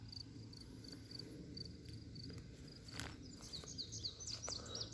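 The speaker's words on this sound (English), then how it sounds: "There are so many crickets here." Many crickets chirp outdoors in nature, pulsing high-pitched trills repeating in quick regular bursts, with a few brief bird calls and rustles mixed in, close and moderately quiet, without any voices.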